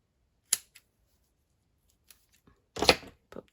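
Scissors snip paper for a Stamperia Alice pop-up card at close range: one sharp cut, a faint tick, then a longer crisp snip with small rustles after it in a quiet room.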